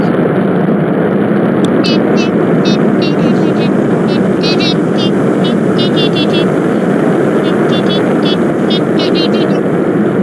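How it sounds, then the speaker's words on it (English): A rocket launching in the game Spaceflight Simulator gives a steady, loud broadband roar that holds for the whole stretch, with faint repeated high chirps layered on top. "But the rocket is launching."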